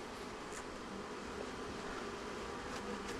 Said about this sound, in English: Lots of bees in there.